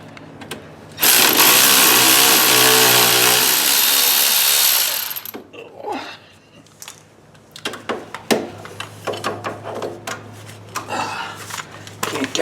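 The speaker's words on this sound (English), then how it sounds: "So I'll just take a minute and unbolt these." Power tool unbolting brake caliper bolts on an Arctic Cat 4WD ATV during rear axle work, one loud sustained whir for about four seconds, then scattered clanks and rattles of metal parts being handled nearby.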